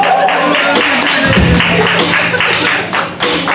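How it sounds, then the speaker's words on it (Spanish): Audience applause for Mágico Besique at a live concert, a dense wash of clapping hands with scattered thumps, fairly loud and steady before thinning near the end. "Es un aplauso para Mágico Besique"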